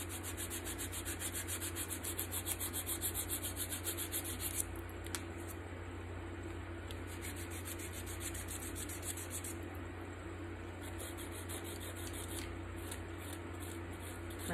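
A nail file rasps steadily across fingernails at close range, a continuous scratchy rubbing with quick strokes and a brief pause partway through, over a low constant background hum.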